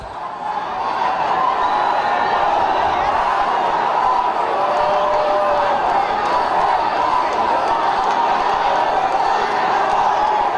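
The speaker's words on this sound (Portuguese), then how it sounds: "Dilma acabou vaiada." A large crowd at an anniversary celebration for a city in Amazonas, where President Dilma was booed, raises a sustained wall of jeering and shouting that holds loud throughout.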